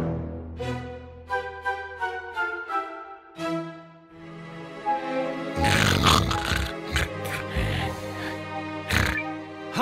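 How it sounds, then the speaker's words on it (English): Wolf snoring in the video game Eiyuden Chronicle Hundred Heroes, with loud, rhythmic snorts and grunts rising through the middle of the clip over game music. "What is all that raucous snoring?"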